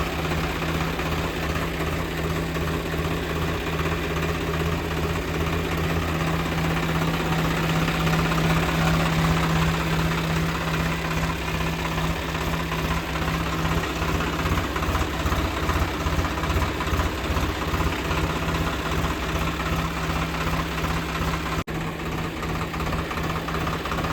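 A 40 HP power steering tractor engine idles steadily and close, a continuous low rumble with a knocking, vibrating pulse throughout and no talking.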